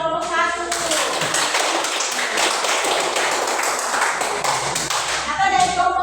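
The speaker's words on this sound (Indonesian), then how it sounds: "tepuk tangan buat kelompok 1" A class of students claps for a group, a full burst of rhythmic hand clapping that swells in after a moment and fades near the end, with voices audible at the edges.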